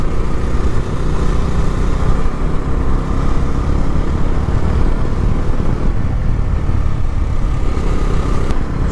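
Bajaj Dominar motorcycle engine while riding near Gangtok, Sikkim: a continuous, steady engine drone with road and wind rumble, loud and close, no talking.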